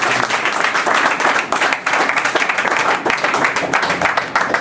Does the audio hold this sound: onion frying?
no